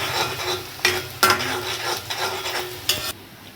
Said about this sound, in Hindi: प्याज का कलर चेंज होने तक इनको फ्राई करना हैगा तेल में।